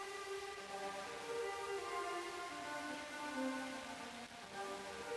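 Ambient music track run through a HoRNet reverb plugin with 8-bit depth reduction, giving sustained droning tones under a gritty, hissy, rain-like digital noise layer, steady and fairly quiet throughout.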